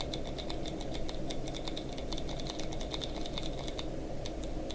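Foley imitation of keyboard typing: quick irregular clicking like keys being typed, with a steady low hum underneath; continuous and fairly quiet, no voices.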